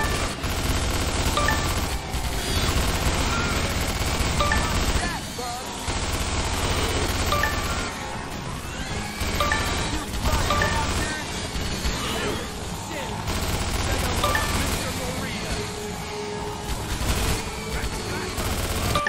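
Gun tower firing at swarming hopper bugs in the Starship Troopers game, dense continuous bursts of gunfire and explosions filling the scene, with voices shouting over the battle.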